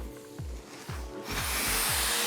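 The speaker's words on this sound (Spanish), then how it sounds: "ahora vamos a lijar con lija de grano 120" A decorative floor coating being sanded by hand with 120-grit sandpaper, four rhythmic rasping strokes, followed by the rising roar of a vacuum cleaner switching on close by.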